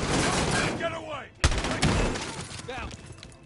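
Pistol gunfire in the Call of Duty: Warzone video game, a sharp close shot cutting through loud game noise and voices, with a short echoing tail.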